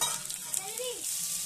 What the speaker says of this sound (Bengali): পেঁয়াজগুলো একটু লালচে করে ভেজে নিচ্ছি আলুর সঙ্গে একসঙ্গে।